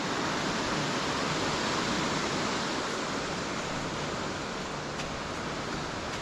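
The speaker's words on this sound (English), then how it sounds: "one of the streams that comes down the hill to meet the river over there, look. There's two drops." Water from a small hillside stream tumbling over two little drops before joining a river, a steady broadband rush that fills the whole stretch at an even level with no voices.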